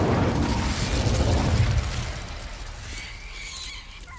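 An Incendio fire spell is cast in Hogwarts Legacy, a loud, whooshing burst of flame that roars for about two seconds and then fades into a softer, crackling magical tail.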